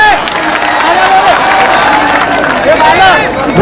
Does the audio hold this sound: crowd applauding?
yes